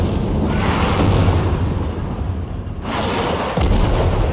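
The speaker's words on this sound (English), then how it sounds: "We're still being bombarded from orbit." Orbital bombardment in the video game Warframe, a continuous loud roar of rumbling explosions with deep booms that briefly ease off and then slam back in.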